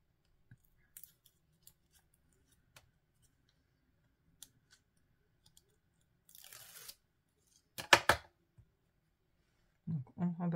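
Scissors cut the corners of fabric for a scrapbook album. Faint ticks lead into a rasping snip, then a pair of louder, crisp cuts close by, and a voice briefly follows.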